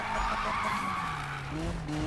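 Tires skid and squeal as a car drifts in a racing video game, a steady engine drone with sliding pitch running loud and continuous throughout.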